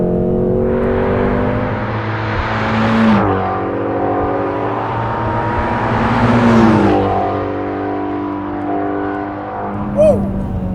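A Ford Mustang Shelby GT350R's engine revs hard while accelerating downhill, two loud rising surges each ending in a sharp gear-change dip, then settling into a steady drone; a brief whoop is heard near the end.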